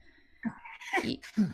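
A single sneeze, quick and close, with a short intake before the burst, in an otherwise quiet indoor conversation.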